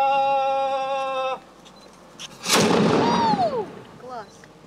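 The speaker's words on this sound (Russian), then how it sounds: "Палить из пушки в Омской крепости теперь будут для всех желающих." A single loud cannon blast booms out at the Omsk Fortress after a brief electronic tone, followed by echoing rumble and scattered chirping sounds.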